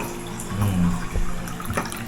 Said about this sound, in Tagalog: Salinan natin ng tubig.